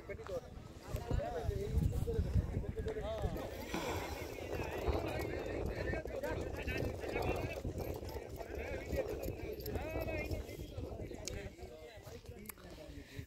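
Horses gallop in a crowded village horse race in Kutch, with hooves pounding steadily throughout at a distance, buried under a voice talking over the action and general outdoor noise.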